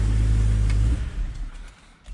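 A BMW E92 M3 engine idles loud and close through a newly modified, not fully hooked-up exhaust, a deep steady rumble that cuts off about a second in, leaving a quieter wind-down.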